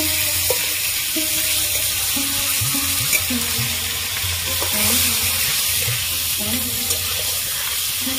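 Koi fish frying in plenty of oil are stirred steadily, a loud continuous sizzle with scraping utensil strokes and light knocks throughout; a voice talks faintly underneath.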